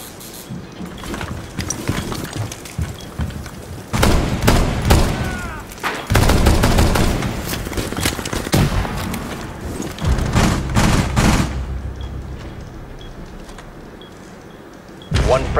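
Rapid bursts of gunfire in the game Rainbow Six Siege: loud clustered volleys and sharp single shots spread across the stretch, with pauses between them and a person talking over the action.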